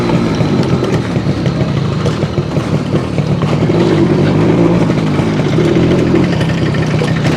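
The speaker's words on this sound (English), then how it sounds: "The bike is still not alive. It still stutters a lot." A Suzuki AX100 motorcycle runs with the choke on, its engine loud and close with an uneven, stuttering note as it rides along the road.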